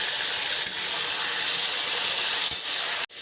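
Ridge gourd frying in a pan with turmeric and salt, giving a steady close hiss of oil sizzle with a few brief stirring scrapes, no voices.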